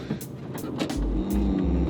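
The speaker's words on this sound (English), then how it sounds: "Never get tired of the V8, man." A V8 car engine drones steadily while driving, the low rumble swelling into heavier pulses toward the end, with no voices present.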